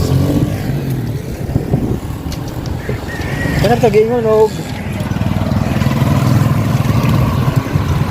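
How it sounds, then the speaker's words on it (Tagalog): Radio-drama road traffic: car and motorcycle engines idle and rev past, with a horn-like warble near the middle, a busy street bed under someone speaking throughout. "Traffic ang kalsada."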